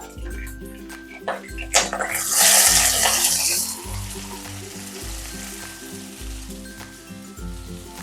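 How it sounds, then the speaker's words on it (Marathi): Chopped onion and green chilli sauté in a pan, a steady sizzle with a brief louder burst of frying partway through, sitting under rhythmic background music. "कांदा आपल्याला दोन ते तीन मिनिट छान असा गुलाबी रंग येईपर्यंत परतून घ्यायचा आहे"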